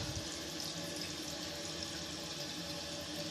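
A newly installed Glacier Bay toilet flushes, with a steady, moderately quiet rush of running water continuing throughout and no voices.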